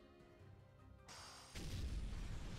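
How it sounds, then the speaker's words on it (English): An explosion in Hyrule Warriors: Age of Calamity, a sudden burst followed by a louder, deep rumbling blast that swells and sustains over quiet game ambience. "Oh, explosion."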